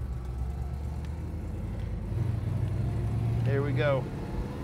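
A 1969 Plymouth Road Runner with a Hurst shifter idles with a deep, steady rumble that swells slightly partway through, while someone speaks briefly over it near the end.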